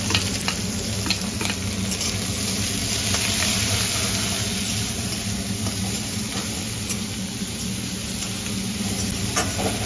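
Chili and onion sizzle hard in hot oil for urad dal, a loud, continuous crackling hiss with small pops, steady throughout and heard close with no talking.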